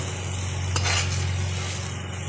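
Green chilies sizzle and fry shallowly in a pan, with a steady hiss and a brief stirring scrape, close and without talking, over a constant low hum from a fan.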